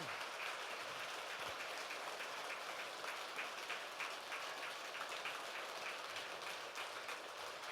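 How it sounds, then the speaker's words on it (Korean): Audience applause for a Buddhist monk at the close of a Hwaeom sermon in a temple hall, a steady dense wash of many hands clapping at moderate distance, continuing evenly throughout with no talk. "수불스님께 큰 박수 부탁드리겠습니다"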